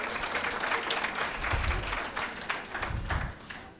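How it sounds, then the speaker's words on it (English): Comedy club audience applause, lively crowd clapping at close range with some low thumps mixed in, holding steady for several seconds. "Yes, give them a round of applause."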